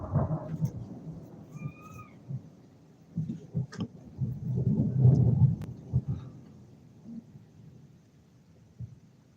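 Thunder from a lightning bolt in a big storm rolls in as a low, broad rumble that swells in the middle and fades, with softer crackles around it, moderately loud and with no talking.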